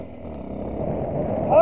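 Yamaha WR supermoto engine buzzing steadily while lifting a wheelie over a small irrigation trench on a green lane, a close, rough drone with a short rev swell at the end, and a rider's voice briefly over it.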